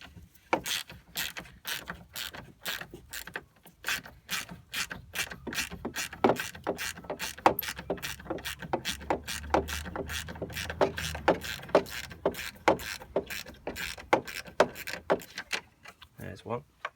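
Ratchet driver loosening Torx 30 screws on the front grille of a 2002–2005 Volkswagen Polo 9N, giving long runs of rapid sharp clicking pawl ticks, close and crisp, with brief handling noises between bursts.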